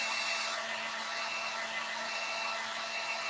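Hair dryer blowing steadily over freshly painted touch-ups on a wooden candy corn decoration, a constant close, even whoosh with a faint motor whine throughout and no talking.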